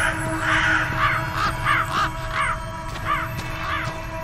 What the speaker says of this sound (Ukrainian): Якісь пташечки дивні. Це, типу, мають бути ворони?